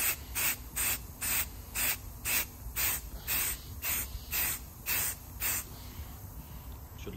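High-temperature stove and barbecue paint hisses from an aerosol can in about a dozen short, evenly spaced spray bursts, close and fairly quiet.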